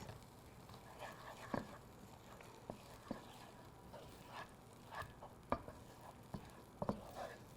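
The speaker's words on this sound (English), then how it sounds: "Stirring, stirring, stirring, stirring." Food stirred in a pot on a stovetop burner, soft scraping strokes with faint sizzling, quiet and close, in a few irregular clusters at a low level.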